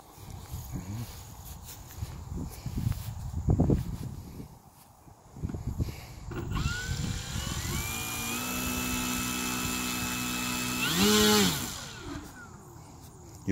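Precision Aerobatics Katana model plane on its maiden flight, a faint motor whine starting after a few seconds of outdoor bustle, then rising and swooping in pitch with a louder pass near the end.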